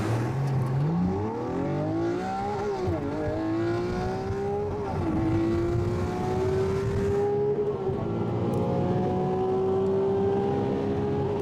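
A Lamborghini supercar accelerating hard from a standstill, its engine pitch climbing steeply through each gear with brief dips at the shifts, loud and steady throughout.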